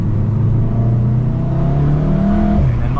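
A stock Volkswagen Golf R hatchback climbs uphill under hard acceleration, its engine drone loud and close from inside the cabin, the pitch rising steadily and continuously with no talk.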